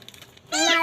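A rescued kitten with crusty eye discharge gives one loud, drawn-out meow that rises and falls near the end, after a short stretch of quiet room noise.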